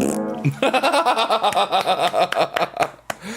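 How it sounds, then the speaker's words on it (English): A comedic fart sound effect played during a chill livestream, a long buzzy flapping burst of rapid rhythmic pulses lasting about three seconds, loud and close, with no talking over it. "here comes a fart sound"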